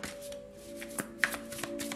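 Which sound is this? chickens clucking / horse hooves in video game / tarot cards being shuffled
tarot cards being shuffled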